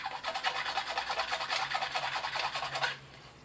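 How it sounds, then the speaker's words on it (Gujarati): Scissors are scraped back and forth against the sturdy bottom of a glass cup to sharpen the blades, giving a close, rapid, rhythmic rasping that runs steadily and then stops abruptly near the end. "કાતરને ફેરવીને પણ ઘસી લઈએ."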